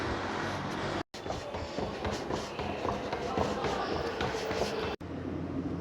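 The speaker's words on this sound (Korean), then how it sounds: "뛰어와가지고 지하철 탔고요" A Korean subway train runs steadily throughout, a continuous rumbling rail noise with brief cut-outs near the start and end, fairly loud and close with no clear talk over it.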